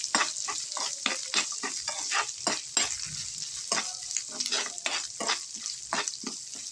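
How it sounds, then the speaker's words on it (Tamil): Grated coconut fries in ghee for a tapioca milk payasam, with a close, steady sizzle and rhythmic scraping strokes of a spoon stirring through it. "இந்த தேங்காய் துருவலையும் நெய்யிலே வறுத்து போட்டுருவோம்"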